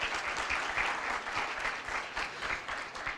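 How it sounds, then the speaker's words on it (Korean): A conference audience at a blockchain event applauds together, a dense continuous patter of many hands held at an even loudness from start to finish without talk over it. "박수를 쳐주셨으니까 제가 아주 짧게 전달해 드리겠습니다."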